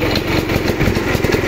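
A PF 62 small tractor's petrol engine runs steadily with a fast, even chugging drone, loud and close, with no pauses.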